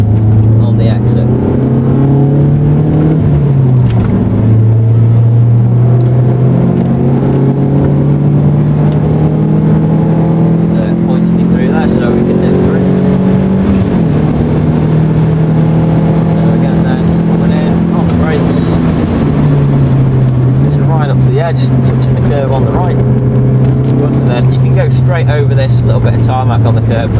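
An MG race car on the Croft circuit drones loudly and steadily from inside the cabin, its engine note rising and dipping with throttle and gear changes, while a voice talks over it.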